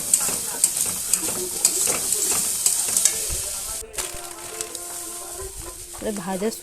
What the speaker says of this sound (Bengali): ভেজে রাখা সুজিটা দিয়ে দিলাম, দিয়ে একটু নেড়ে ছেড়ে ওতেও হালকা একটু জল দেব